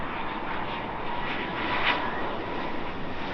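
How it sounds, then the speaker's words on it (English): A British Airways Boeing 777-200 jet at Heathrow passes with a steady, broad engine roar that swells slightly midway, heard at a moderate distance with no talk. "British Airways Boeing 777-200 from Delhi in its Great Festival of Creativity livery."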